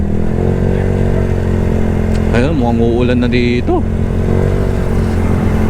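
A Yamaha Mio Sporty scooter rides along on a long ride, its engine humming in a loud steady drone throughout while someone talks over it briefly midway.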